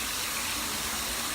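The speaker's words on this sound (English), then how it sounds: "put water back on through the tresses" Water steadily poured through the tresses of a human hair curly wig, a continuous close, full rushing splash with no talking.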